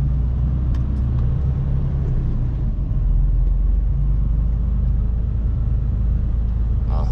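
Steady low engine rumble of a Mercedes-Benz truck rolling slowly through a traffic jam near Düsseldorf, a continuous droning cab noise with faint road hum and no talking.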